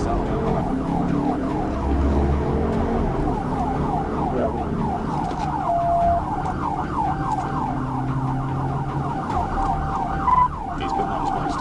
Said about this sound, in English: the officer activating blue lights and sirens